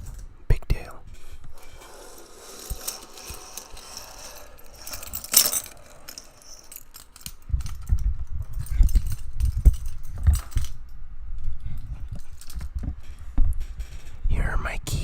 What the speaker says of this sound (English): Here are my keys.